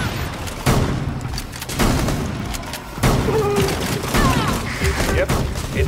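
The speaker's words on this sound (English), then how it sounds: "Yep, it's a gun." Gunshots and bursts of gunfire in the tactical shooter game Rainbow Six Extraction, several loud reports at irregular intervals over steady background game noise, with voices talking now and then.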